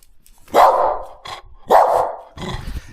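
A dog barks three times, each bark loud and close, with short pauses in between.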